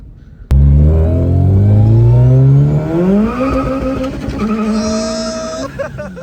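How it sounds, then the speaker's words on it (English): A supercharged Honda Civic Si street car of about 400 wheel horsepower roars loudly, its engine note climbing steadily in pitch as the tires spin and squeal, with faint voices in the background. "That boy is still lighting the fucking tires up"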